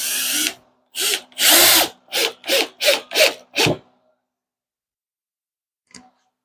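Power drill driving 2.5-inch exterior screws into 2x4 boards, a run of short loud whirring bursts in quick succession, close by, then silence with one faint tap, no talk.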